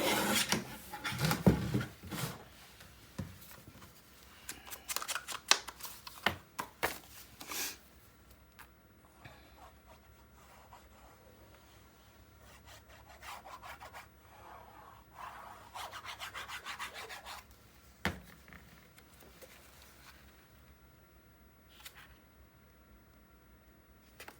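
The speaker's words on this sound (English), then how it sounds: "I think I need to trim this just a hair, because it's hanging over the top" Craft paper for a Graphic 45 8.25 x 8.25 mini album is trimmed at a work table, with sharp scraping cutting strokes in quick bursts early on, then softer intermittent rubbing and shuffling, no speech.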